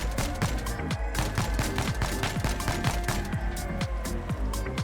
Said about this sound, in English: I'm gonna lob some grenades to the other side and fish for some members.